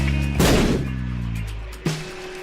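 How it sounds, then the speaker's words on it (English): Video game explosions from The Binding of Isaac: Rebirth, two loud booming blasts, the first a broad heavy burst that rumbles and fades, the second a sharper, shorter hit near the end, with no talking. "explosions are the bane of my existence in this game"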